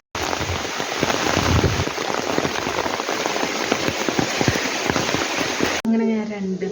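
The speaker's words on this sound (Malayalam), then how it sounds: "നല്ല മഴയാണ് ഗൈസ്." Heavy rain pours down steadily and loudly at close range for most of the clip, then cuts off abruptly near the end as a voice begins speaking.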